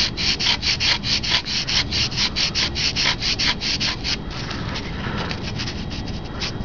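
Sandpaper rubs back and forth along the underside of a balsa glider wing in quick, even, rhythmic strokes close by, then slows to a softer, steadier scrape.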